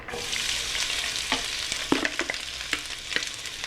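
Onion rings fry in hot oil in a pan, a steady loud sizzle broken by sharp crackles and occasional clacks of stirring, with no talking.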